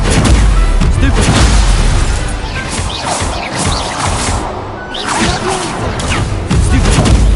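Repeated Stupefy spell impacts and whooshing casts in Hogwarts Legacy, loud booming hits in quick succession over dense game effects and music, with a player shouting spell names throughout.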